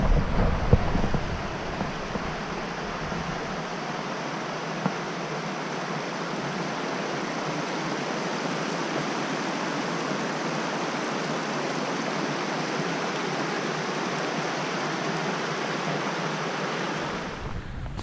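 South Fork Creek flows near South Fork Meadows as a steady, broad rushing wash of water, constant and fairly close, with a little wind buffeting at the start and no talk.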